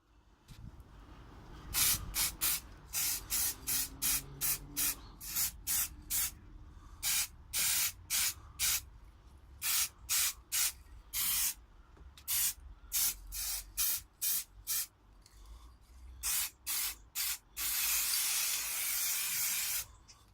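Short bursts from an aerosol spray paint can coating a rusty motorcycle exhaust on a Kinroad XT125GY, close and loud, dozens of quick hissing sprays in an uneven rhythm ending in one longer spray.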